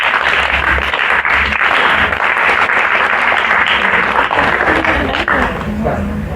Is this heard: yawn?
no